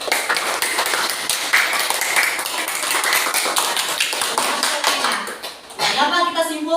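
Pupils clap in a primary school classroom, a brisk patter of many hands that runs for several seconds and then fades as a voice starts talking.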